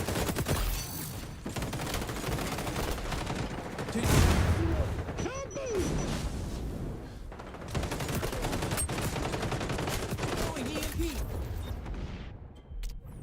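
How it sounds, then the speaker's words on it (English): Frantic gunfire and bursts of combat noise from the online shooter XDefiant, with a thudding grenade blast rising out of the fight partway through, loud and dense throughout. "Right, watch this grenade. Watch what that does."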